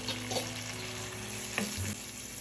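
Squid sizzling steadily in a pan with butter, garlic and onion for Filipino adobong pusit, a continuous close frying hiss broken by a few stirring clatters.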